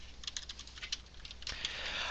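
Quick light keystrokes on a computer keyboard as a class title is typed, a short close burst of soft irregular clicks over faint room hiss, no talking.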